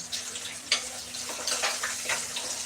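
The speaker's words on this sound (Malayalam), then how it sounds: "ഇഞ്ചി പച്ചമുളക് വെളുത്തുള്ളി ഉള്ളി കടുക് വറുത്തിട്ട് കടുകും ഉലുവായും കൂടി ഇട്ട് എണ്ണയ്ക്കകത്ത് താളിച്ചിട്ട്" Onion, garlic, ginger, green chili, mustard seeds and fenugreek sautéing in hot oil for a Kottayam-style fish curry, a steady close sizzle with brief crackles and occasional stirring scrapes, no talking.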